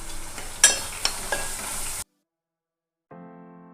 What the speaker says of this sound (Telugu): పచ్చివాసన పోయేంత వరకు వేయించుకోవాలి అల్లం వెల్లుల్లి పేస్ట్